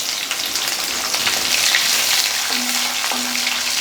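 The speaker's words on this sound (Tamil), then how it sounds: "இதை வதக்கி விட்டுட்டு வெங்காயத்தை போட்டுற வேண்டியதான்" Sliced onions sautéing in a pan for tomato kurma, a steady bright sizzle and crackle of oil, close and continuous with no voices.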